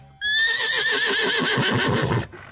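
A horse whinnies loudly and close, a long shrill neigh that wavers and descends over about two seconds before cutting off, with no other sound around it.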